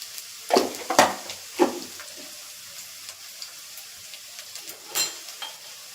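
Garlic frying in a pan over a low gas flame gives a soft, close sizzle, broken by a few quick scraping stirs early on and another near the end, with no voices.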